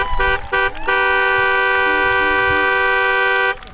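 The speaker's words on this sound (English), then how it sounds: "And then they honk when there's a big chance or when their team scores." Car horns blare at a football match in Nuuk, Greenland, starting with short toots and then settling into one long sustained honk with several horns layered together, loud and near.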